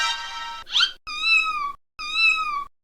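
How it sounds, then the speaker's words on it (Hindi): A cartoon cat in a desi comedy animation gives two long, drawn-out tonal cries, loud and alone, after a short harsh squeal, with brief silence in between; it sounds more like a meowing wail than a low growl. "चिंटू के बच्चे, मुझ पर क्या गुर्रा रहा है?"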